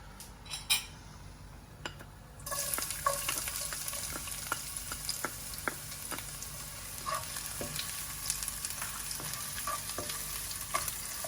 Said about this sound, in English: we start off with frying the shallots